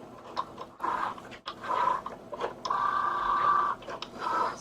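A Cricut Joy cutting machine works on a card, giving off whirring motor tones in several bursts with short pauses between them, up close and fairly loud.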